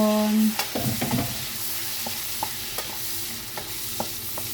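Prawns stir-frying in butter with browned garlic, steady close sizzling with repeated scraping and clanking of a utensil stirring in the pan, no voices.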